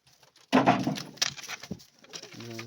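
Inside a pigeon coop holding adult birds and a large chick, a sudden close rustle and flutter bursts out, followed by soft low cooing.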